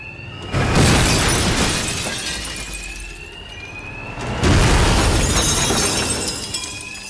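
Alarms blare in a robbery scene in Batman Arkham Knight, loud and continuous under crashing, shattering noise, with two surges of louder clatter.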